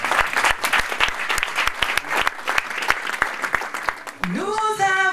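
A church congregation claps in a steady, rhythmic beat, sharp close hand claps repeating about twice a second, with a voice starting to speak or sing near the end.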